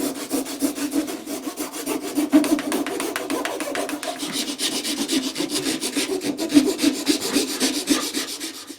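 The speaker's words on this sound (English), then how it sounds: "I just did use this this metal file that I've got here." Steady back-and-forth rasping of a metal file scraping across hard plastic while fitting heated grips to a Honda CBR650F motorcycle, close and continuous with even strokes and no voices.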